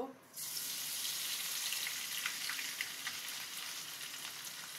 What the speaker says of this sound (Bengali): এবার আমি এই তেলে রসুন কুচি দেব